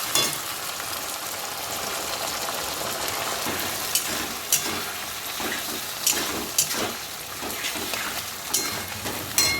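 Tomato, chili and soy sauces with a splash of vinegar sizzle in a frying pan with a steady hiss, broken by a few sharp pops and spatters, close and fairly loud.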